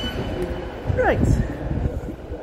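Low rumbling of a train in motion near Preston with a brief metallic squeal of wheels partway through, steady and close by.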